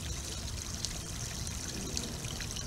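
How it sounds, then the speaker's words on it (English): Tap water and pool water pour into a small plastic test vial, a steady, close trickle lasting a few seconds with no talking. "Pour it into here to the 7 milliliter mark."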